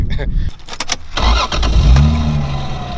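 A Lexus IS300 engine cranks with a few quick bursts, then catches and settles into a loud, close idle, while a person talks briefly near the car.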